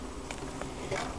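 Honey bees at a beehive buzz faintly in short scattered bursts against quiet background hiss.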